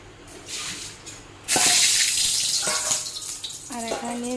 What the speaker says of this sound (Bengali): কারকলটা ধুয়ে নিই